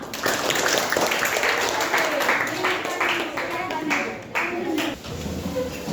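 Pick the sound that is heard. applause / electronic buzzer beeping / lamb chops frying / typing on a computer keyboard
applause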